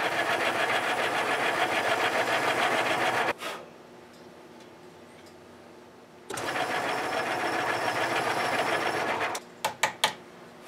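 Power tool cutting the compensated nut overhang on a maple guitar neck, buzzing loud and close in two runs of about three seconds each, a quieter pause between, then a few short bursts.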